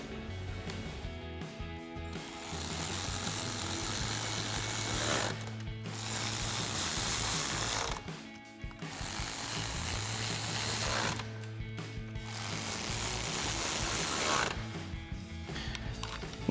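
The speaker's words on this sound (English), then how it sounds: "reinstall our 4 10mm mounting screws at the top of our grille, again using our 10mm socket on our ratchet" A ratchet with a 10mm socket tightens the grille mounting screws on a Ford F-250 Super Duty, giving close, rapid mechanical clicking in repeated bursts separated by brief pauses.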